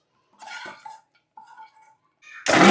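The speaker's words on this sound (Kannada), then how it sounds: "ಇವಾಗ ಮಿಕ್ಸಿ ಜಾರ್ಗೆ ಹಾಕೊತಾ ಇದ್ದೀನಿ ರುಬ್ಬೋದಕ್ಕೆ" Cooled roasted masala for tomato bath being spooned into a mixer grinder jar: a few metallic clinks and scrapes of a spoon against steel, then a sudden loud, dense burst at the very end.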